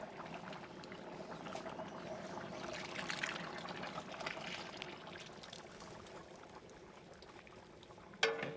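Fresh milk cream is poured into a pan of chicken white karahi, giving a soft, continuous trickling and pouring wash that holds steady and then ends with a brief knock.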